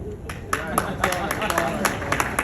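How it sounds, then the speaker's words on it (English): An audience claps in scattered, uneven bursts while a speaker's voice continues over it, the claps sharp but moderately quiet. "Clapping for bad news"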